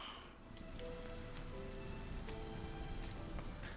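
Steady rain patters and splashes on surfaces in the video game RIME, a dense even hiss of droplets holding at moderate volume throughout, with no one talking.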